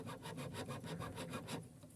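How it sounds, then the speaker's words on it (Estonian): A homemade machete is sanded with brisk, regular rubbing strokes, roughly eight rasping passes in quick rhythm that stop abruptly near the end. "Ja siis hakata siit niimoodi lihvima."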